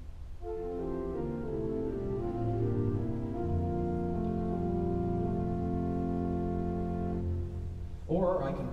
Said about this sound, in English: And then we have stops that are called diapasons.